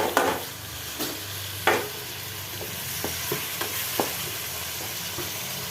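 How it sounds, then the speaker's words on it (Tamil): Tomatoes fry in hot oil in a pan, a constant sizzle broken by several sharp scraping clatters as a spoon stirs them, close and fairly quiet. "தக்காளியை போட்டுடலாம்."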